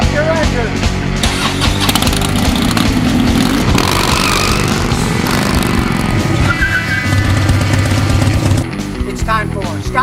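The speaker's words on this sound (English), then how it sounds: "Rev up your engine." A car engine revs loudly and close, rising and falling in roaring bursts over about ten seconds, with talking mixed in over the engine noise.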